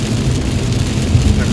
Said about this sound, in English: Definitely some heavier rain right here at the minute.